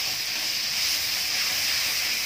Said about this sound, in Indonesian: Ini minyak udah panas, kita masukin cabenya.